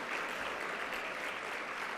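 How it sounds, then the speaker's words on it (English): Audience applause for the judges at an academic conference plenary session, a steady, dense wash of clapping from a large crowd that holds at an even level throughout. "Let's give them a round of applause"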